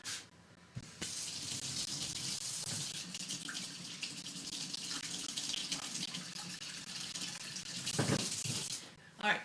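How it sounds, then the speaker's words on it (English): A kitchen tap runs cold water over the outside of a pan of overheated milk, a steady close hiss and splash lasting almost the whole time before cutting off near the end, with no talking. "try running a little bit of cold water on the outside"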